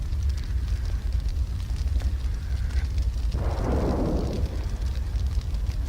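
Artillery shell blast in a Finnish war film, a sudden broadband burst about midway that swells and rolls off over a couple of seconds, set against a steady low rumble of battle ambience.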